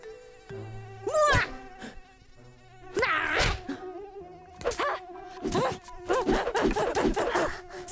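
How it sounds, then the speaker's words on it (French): A mosquito's whining buzz rises and falls in repeated swooping bursts, loud and close, with short pauses between passes and a thump partway through. "Ah, mais où est-ce qu'il peut bien se cacher, ce moustique?"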